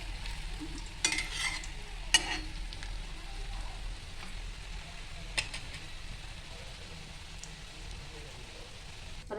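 Rava burger patties fry with a steady soft sizzle in a pan, with a few scraping clatters as they are turned, a voice talking faintly over it.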